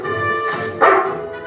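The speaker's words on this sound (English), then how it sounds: "That's one hungry dog, Mutt." A cartoon dog named Junkyard gives a single loud, close bark with a bright yelping edge, following a short stretch of tonal background sound.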